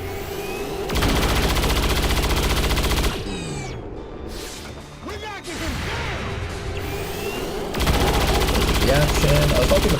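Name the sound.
gunfire from soldiers shooting in the video game XCOM 2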